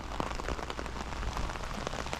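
Cold, windy rain falls steadily in the woods during a deer hunt, a close, continuous patter of drops striking surfaces with no voices over it.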